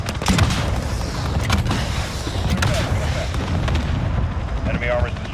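Gun run airstrike in Call of Duty Modern Warfare: heavy booming explosions and rapid cannon fire roll in loud and close over battlefield noise, with radio voices calling out.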